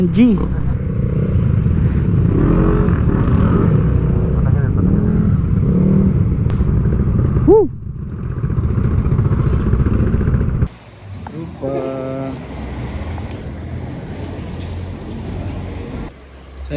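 Motor scooter engines rumble loudly and steadily close by at a scooter race, with a rising rev partway through, then the engine noise drops off and quieter clattering follows.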